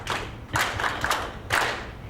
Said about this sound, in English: could we just have a round of applause to the professor in absentia?